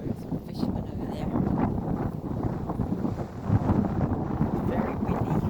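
Strong wind buffeting the microphone at the Greenwell Point waterfront, a steady loud roar and rumble with gusty surges throughout, no clear speech above it.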